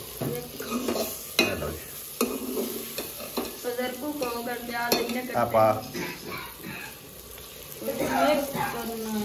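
Onions fry until brown while being stirred, a steady sizzle with scraping spoon and clinks against the pot, and someone talks over it now and then.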